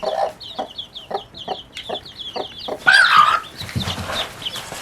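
An aggravated broody hen clucks close by in quick, repeated low bursts, then lets out a louder, harsher squawk partway through, followed by rustling and fainter clucking.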